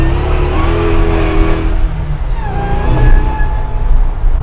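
Hellcat-swapped 745 hp Chevy C10 pickup engine running with a deep, steady burble and supercharger whine, engine note rising and falling slightly as it motors along, loud and close.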